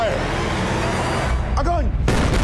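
Gunfire and bombardment from the film X-Men: First Class, a loud rumbling barrage of booms with whistling, sweeping tones and a sharp blast near the end, dense and continuous.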